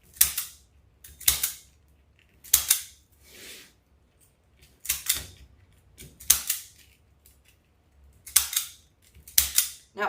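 Scissors snip through deco mesh to cut out flower petals, a series of crisp, loud cutting clicks in uneven bursts with brief quiet gaps, close up and with no talk.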